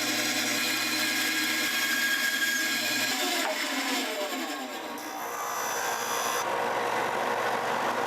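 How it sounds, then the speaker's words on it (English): A bandsaw cuts through a wooden J-Plug trolling lure, a steady loud motor whine with a shifting blade tone as the wood is fed, continuous and close with no speech. "finish cutting this off with the bandsaw, and I'll clean up this cut"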